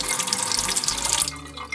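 Water runs steadily from the small original tap into the sink of a vintage travel trailer kitchen, splashing close by, then eases off toward the end. No one speaks.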